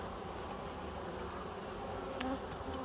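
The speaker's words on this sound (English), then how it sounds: "a lot of bees" Dense, steady buzzing of many honey bees swarming close by at an open Layens hive, a continuous droning hum with no voices.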